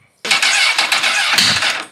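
A motorcycle engine cranks over without catching, a steady whirring starter grind of nearly two seconds that begins abruptly, stays loud and close, and stops without the engine firing.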